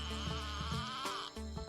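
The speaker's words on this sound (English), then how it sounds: "it's the creaky bed frame frog" A frog nicknamed the creaky bed frame frog calls close by in repeated creaky, rasping pulses, several in under two seconds, like an old bed frame groaning under shifting weight.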